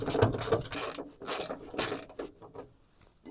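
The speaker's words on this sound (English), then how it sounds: "I guess I'll just start taking bolts off till there aren't any left to take out" Bolts are loosened and pulled from the hood of an old abandoned Chevy S10 pickup, giving a series of close ratcheting clicks and metallic scrapes in quick uneven bursts with short pauses between them.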